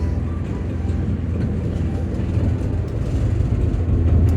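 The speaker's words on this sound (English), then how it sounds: "As we say goodbye to the tram." A monorail tram in Japan passes with a steady low rumble and hum that swells slightly toward the end, close by and with no voices over it.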